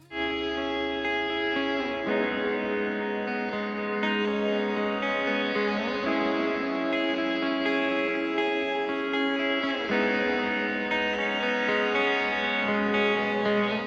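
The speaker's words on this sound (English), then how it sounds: "if you don't have an ambient reverb pedal and you're looking for one, this should be on your list" An ambient reverb pedal being demonstrated, with layered sustained tones swelling into long, washy echoing trails and shimmering chords that shift every few seconds, played steadily alone with no talking.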